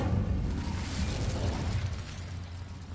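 Incendio fire spell cast in Hogwarts Legacy: a dense, roaring whoosh of flame and crackling bursts that fills the whole span at steady loudness, with no talk over it.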